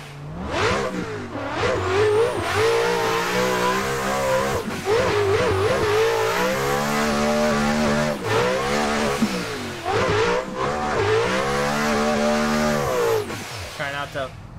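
A Nissan S15 drift car with a freshly built engine revs hard on a track during testing, climbing and dropping through several loud, sustained pulls with short lifts between them.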